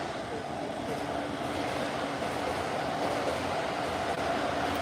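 A train passing near Tokyo Tower, a steady broadband rumble and rolling rail noise that stays constant throughout, moderately distant with no talk over it.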